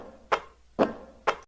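Three short, dry percussive clicks from a pitched-up switch sound, evenly spaced about half a second apart, each a brief snappy transient with no ringing tail, close and alone.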